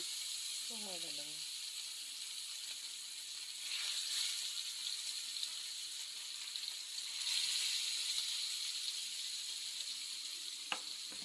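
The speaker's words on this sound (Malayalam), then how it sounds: "കരിമീനൊക്കെ പൊള്ളിക്കുകയാണ് കേട്ടോ പൊള്ളിക്കുകയല്ല വറുക്കുകയാണ്" A continuous hiss of pearl spot fish sizzling in hot oil, fairly faint and steady, swelling slightly twice, with a brief tonal sound early on.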